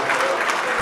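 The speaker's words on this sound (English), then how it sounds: "can we just give him a round of applause?" Dense applause from an audience of Nigerians gathered in Canada at a political speech, a continuous wash of clapping with murmured crowd voices underneath.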